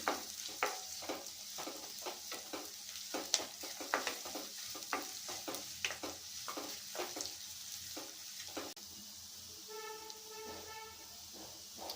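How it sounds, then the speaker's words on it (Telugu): Onion pieces fry in a pan until golden, giving a steady, faint sizzle broken by frequent sharp crackles and pops, then a quieter hiss with a few soft tonal chirps near the end, close with no talking. "ఉల్లిపాయ ముక్కలు దూరగా వేయించుకోవాలండి"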